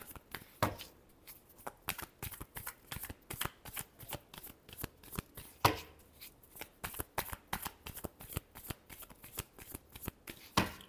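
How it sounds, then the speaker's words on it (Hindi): Tarot cards are shuffled close up in a long, steady run of quick riffling flicks and slaps, one sharper accent in the middle, with no talking over it. "Last shuffle."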